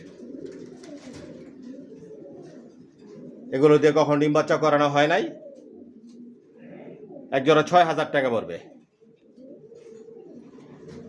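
Caged racer pigeons for sale coo in a low, continuous murmur underneath someone talking loudly in two bursts, the birds' soft burbling filling the pauses between his speech.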